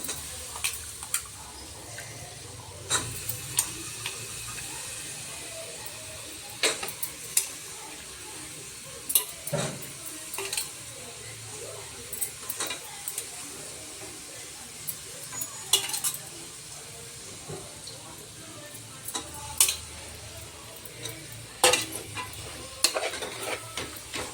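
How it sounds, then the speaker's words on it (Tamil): Washed vegetables being stirred in a pan with a soft background sizzle, punctuated by scattered clinks and scrapes of a utensil against the pan, moderately close and without talking. "அடுத்தது வெஜிடபிள்ஸ் ஆட் பண்ணிக்கலாம்."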